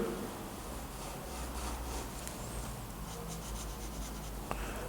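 Chalk or marker drawing a Z on a classroom board during a geometry lesson on angles: soft, continuous scratching strokes at close range, fairly quiet, with no talking.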